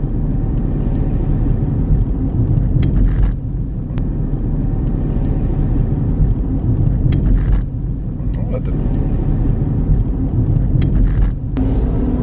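Car inching through stop-start rush hour traffic in central Edinburgh, a steady low engine and road rumble running throughout with a few brief louder passes from nearby vehicles.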